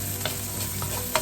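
Carrots go into a hot pan alongside onion and are stirred for a Filipino sipo egg dish, giving a steady close sizzle with a few brief scraping strokes and no talking.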